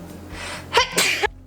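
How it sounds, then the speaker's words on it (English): A single loud, close sneeze with a quick inhaled buildup followed by a sharp burst of breath. "Oh my god, I'm gonna sneeze."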